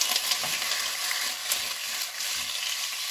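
Shiitake mushrooms splashed with cooking wine sizzle steadily in a hot wok as they are stir-fried and pushed aside, a close, continuous frying hiss with faint stirring.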